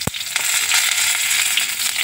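Peanuts and panch phoron frying in oil in a copper-brass kadai, a loud, dense crackling sizzle that runs continuously after a brief knock at the start.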